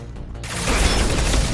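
A sudden burst of rumbling, crackling noise from an explosion in the video game Mass Effect 2 swells in and stays loud, with mechanical rattling.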